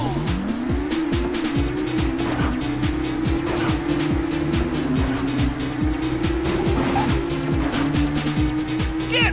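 Race car engines in the DOS video game Whiplash drone and rise steadily as the race gets underway, with screeching tires and rapid clicking impacts layered over the continuous motor whine.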